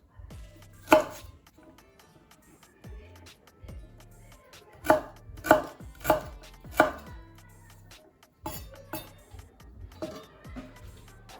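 Ginger being roughly chopped with a knife on a board: sharp knocks in loose clusters, a single chop, then a run of four, then several more, close and crisp against a quiet background.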